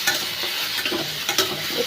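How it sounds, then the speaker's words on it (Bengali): Vegetables lightly frying in a pan give a steady close sizzle, with a few louder scrapes and stirs of a spatula breaking through. "হালকা করে ভেজে নিচ্ছি।"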